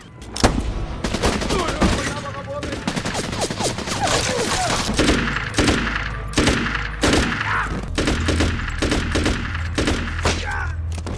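Gunfire from a war movie with Colt M4 and Remington rifles: loud bursts of rapid shots and single cracks repeat through the scene, near and sharp, over a rumbling background.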